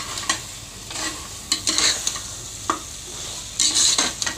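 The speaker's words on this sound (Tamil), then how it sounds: "இப்போ நம்ம சொன்ன மசாலாலாம் இதில் சேர்த்துக்கலாம். சேர்த்துட்டு நல்லா வதக்கிக்கோங்க." Masala spices such as chilli powder, garam masala and salt sautéed for mutton gravy in a pan, giving a steady close sizzle broken by repeated scraping stirs and short bursts of clatter.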